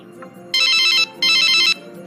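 Two long electronic phone rings, each about half a second, sound close and loud as a mother calls her daughter, with a quiet low background between them.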